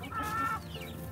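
Chickens cluck inside a small backyard coop, a mixed flock including Olive Egger and Ayam Cemani birds, with a close, steady run of clucking and a brief rooster-like call near the start.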